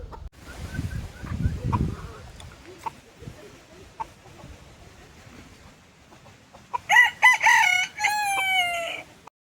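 On a farm, a bantam rooster lets out a loud, clear crow near the end, preceded by scattered clucks and soft background noises, with someone speaking briefly early on.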